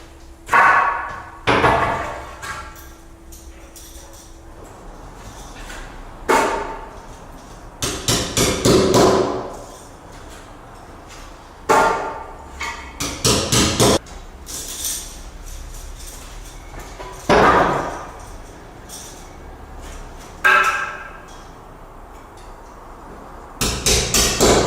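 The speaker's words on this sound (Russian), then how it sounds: "теперь надо забить анкера," Anchors being hammered into a floor during subfloor installation on joists, with heavy metallic hammer blows landing in irregular bursts of rapid strikes separated by pauses, loud and close.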